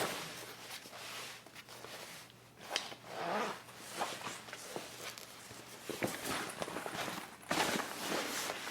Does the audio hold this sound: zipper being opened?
yes